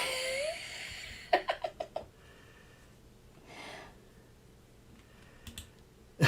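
A short burst of computer keyboard typing, five quick keystrokes close together, heard alone against a quiet room background with a faint breath-like hiss afterward.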